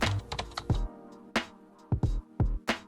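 Clicky computer keyboard typing up close, a quick burst of keystrokes followed by sparse separate taps and pauses.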